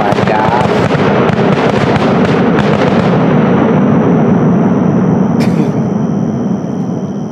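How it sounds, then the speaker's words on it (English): Fireworks display over a lake in Allegheny State Park, a loud, dense barrage of overlapping booms and crackles that gradually thins into a lingering rumble and fading echoes. "That was the best fireworks display I have ever seen in Allegheny State Park."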